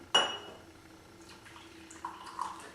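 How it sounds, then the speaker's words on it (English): Coffee pours into a cup after a clear clink of the cup at the start. A soft, close liquid trickle and gurgle follows, with small bright splashes near the end and no talking. "Okay, so we're going to pour our coffee."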